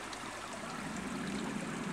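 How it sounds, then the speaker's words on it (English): A stream running past a pub garden flows in a steady, close broadband rush and babble of water, continuous and unbroken with no voices. "this stream actually runs past the pub and the pub garden before it comes to the outlet where most people bottle up their water"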